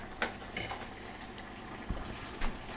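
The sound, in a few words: stirring risotto in a pot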